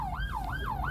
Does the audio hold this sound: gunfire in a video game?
no